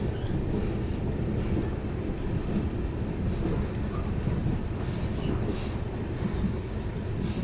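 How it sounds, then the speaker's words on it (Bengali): A train pulls out of Badarpur Junction with a steady loud rumble of wheels on rail, faint clicks and thin high squeals over the rolling noise. "বদরপুর জংশন ছেড়ে ট্রেন কিন্তু বেরিয়ে যাচ্ছে"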